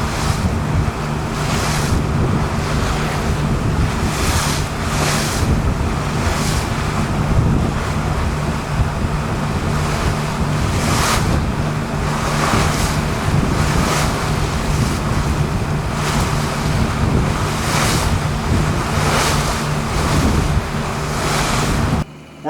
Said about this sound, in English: We're about 15 knots of wind here, pointed right into it